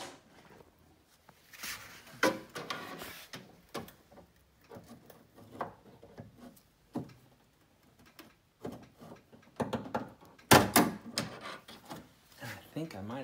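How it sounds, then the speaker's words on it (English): Long screwdriver knocking at a door lock retaining pin on a 1974 C3 Corvette during restoration, heard as scattered knocks, rubs and scrapes, with a loud burst of sharp taps near the end and talk now and then. "we're going to take a long screwdriver and see if we can knock that out"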